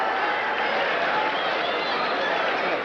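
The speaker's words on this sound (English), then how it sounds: "Very appreciative crowd here in Las Vegas." A boxing crowd in a Las Vegas arena applauds and murmurs near the end of a heavyweight bout's 13th round, a dense, steady wash of clapping and voices that stays at an even level throughout.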